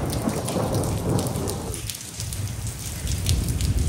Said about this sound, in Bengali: বৃন্দাবনে বৃষ্টি হচ্ছে